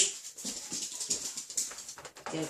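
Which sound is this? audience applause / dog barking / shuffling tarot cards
dog barking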